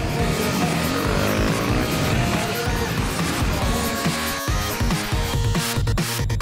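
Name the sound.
enduro motorcycles racing in city scramble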